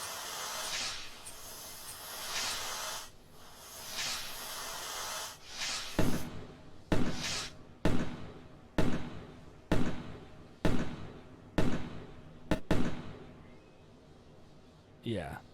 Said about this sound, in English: So we're going to show the fireworks now.